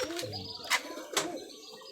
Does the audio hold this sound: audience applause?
no